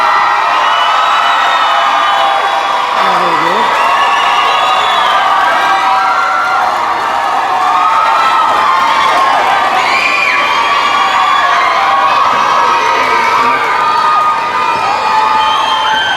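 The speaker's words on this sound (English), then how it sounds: "Graduates, please stand and give your parents and family members a big round of applause" High school graduates at a 2019 graduation ceremony stand and applaud and cheer for their families, a loud sustained roar of cheering, whoops and shouting with clapping underneath, with one voice briefly speaking over it.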